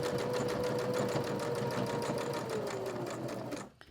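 A sewing machine stitches all the way around the edge of a small fabric cord keeper, running steadily and loud at a fast, even rhythm before stopping abruptly near the end.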